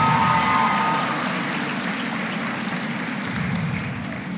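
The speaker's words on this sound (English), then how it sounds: "Round of applause, girls, for your guest speaker" Girls at the St Catherine Academy 2022 graduation ceremony applaud a guest speaker, a steady wash of clapping from a large crowd, tapering off slightly toward the end.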